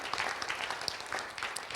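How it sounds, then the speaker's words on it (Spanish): A church congregation claps during a Sunday service, a brief, moderately quiet patter of many hands with scattered sharper claps standing out. "Vamos a dar un aplauso al Señor por nuestras finanzas."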